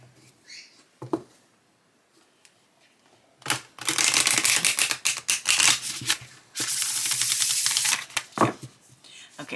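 Two bursts of rapid fluttering riffle shuffles of a thick, heavy deck of playing cards, each lasting a couple of seconds, close up, with soft handling taps and rustles around them.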